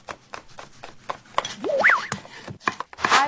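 Onions being chopped with a knife on a cutting board for navy bean soup, a quick run of crisp close taps in uneven rhythm, with brief squeaky scraping noises between strokes.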